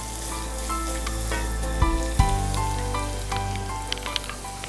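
Chopped onions sauté in a hot pan for a meat vada, giving a loud, steady sizzle close up with a few sharp crackles and stirring scrapes in the middle.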